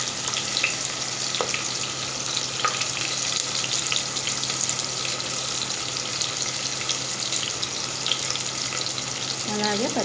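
Onions and whole biryani spices frying in hot oil, a dense, unbroken sizzle with occasional faint clinks and scrapes of stirring throughout, no voices.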